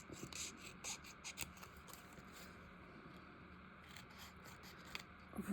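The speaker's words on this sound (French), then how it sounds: "on va le faire à l'ancienne, au ciseau" Scissors snip quietly several times to cut away leftover glue in a craft collage project, with faint scraping and rubbing between the soft cuts.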